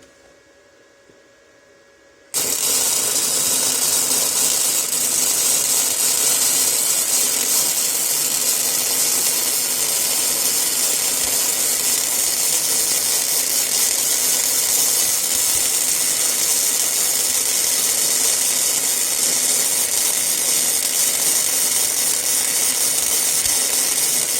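A welding machine lays a practice bead on scrap metal, starting abruptly after a couple of quiet seconds and then running as a loud, continuous hiss and crackle for over twenty seconds without talk.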